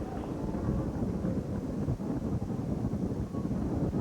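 Space Shuttle Discovery's three main engines and boosters roaring during ascent just after liftoff on the STS-26 return-to-flight mission, a dense, steady, crackling rumble heard from a distance, loud and unbroken, with no voices.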